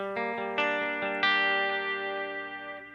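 An electric guitar plays a riff of several picked notes through a Line 6 DL4 MKII set to analog delay with modulation, without drive. The notes ring out with a warm, wavering shimmer and smeared repeats that trail off gently.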